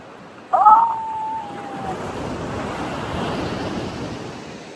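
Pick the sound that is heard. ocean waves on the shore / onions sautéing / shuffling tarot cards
ocean waves on the shore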